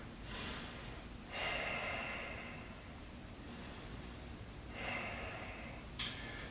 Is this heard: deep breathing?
yes